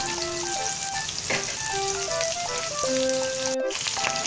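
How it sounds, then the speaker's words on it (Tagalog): Pork ribs searing in a hot pan give a continuous, loud sizzle with popping spatters, heard alone without any talking. "At i-sear lang natin ang ating karne."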